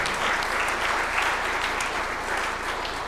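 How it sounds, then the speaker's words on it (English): An audience at a village council meeting gives a full round of applause, many hands clapping steadily and loudly up close throughout. "Please give them a big round of applause."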